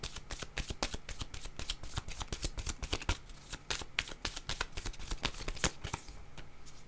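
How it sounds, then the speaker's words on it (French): Tarot cards being shuffled for a reading, a rapid run of crisp riffling flutters and slaps that continues steadily and close by, with no voices. "je vais demander une autre carte"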